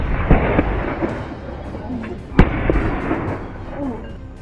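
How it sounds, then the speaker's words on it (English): Gunshots during a hunt deep in a forest after a chase from farmland, two or three sharp, crisp cracks standing out against a noisy outdoor background with faint movement. "The gunshots are crisp."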